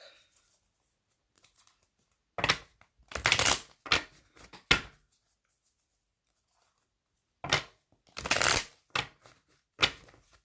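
A deck of cards is shuffled up close in bursts of crisp riffling: two clusters of rapid flutters and snaps separated by quiet gaps, with no talk.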